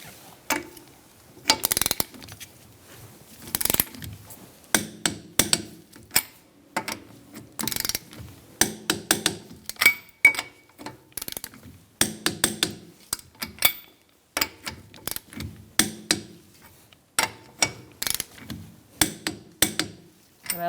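Wheel lug nuts on a 2002-2006 Honda CR-V are torqued to 80 foot-pounds in a star pattern with a torque wrench, giving repeated sharp ratcheting clicks and metallic bursts in irregular bunches, close and alone.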